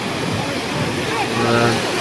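Strong sea waves surging at the shore where fishermen haul a net by hand, a steady broadband wash of water with a low rumbling swell, loud and continuous throughout.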